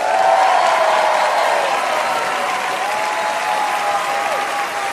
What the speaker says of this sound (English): make some noise for Richard Pryor